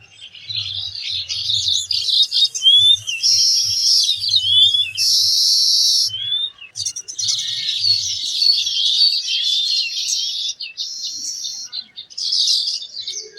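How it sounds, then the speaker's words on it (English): A chorus of baya weaver birds chirps busily in a garden, with overlapping high twittering calls that run almost without pause, loud and close, over a faint low hum. "these males celebrate the season with joyous chirping and choruses, often fluttering their wings as well"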